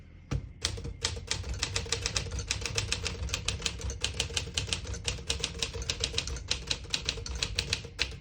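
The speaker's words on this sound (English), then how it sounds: "Beautiful typing machine." A 1957 Smith-Corona Silent-Super portable typewriter is typed on at close range, a steady stream of crisp key strikes at a brisk, slightly uneven pace, with no speech.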